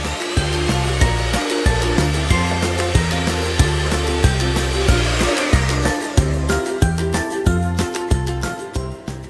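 An electric mixer beats chocolate cake batter, a loud, close motor drone pulsing in a regular rhythm as the beaters knock around the bowl, with no talking.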